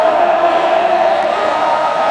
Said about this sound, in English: using the prompt crowd chanting in an arena